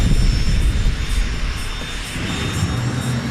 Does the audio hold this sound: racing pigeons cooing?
no